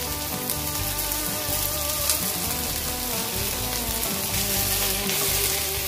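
Rice frying in a pan for biryani: dense, continuous crackling sizzle, close and steady throughout.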